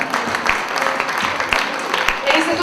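A crowd applauds a poet at the Slamons 2015 slam poetry competition, with steady, dense clapping that carries on evenly with a few sharper peaks throughout.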